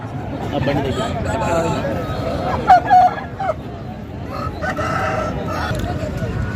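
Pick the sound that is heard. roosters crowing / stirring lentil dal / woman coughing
roosters crowing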